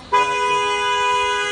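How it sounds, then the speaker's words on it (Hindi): A single sustained car horn blast sounds close and loud on the road to Kedarnath Dham, holding a steady bright tone for over a second. "हॉर्न बज रहा"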